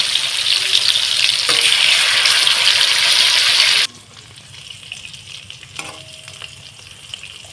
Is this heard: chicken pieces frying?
yes